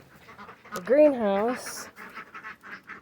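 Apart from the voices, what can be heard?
ducks quacking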